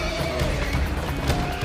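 A horse neighs and whinnies loudly in a John Wick film scene, with hooves clip-clopping and a dense, busy backdrop of action behind it.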